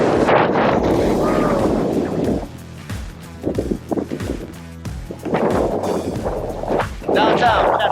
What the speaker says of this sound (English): Look, the rain.